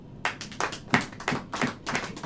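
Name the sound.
congregation clapping hands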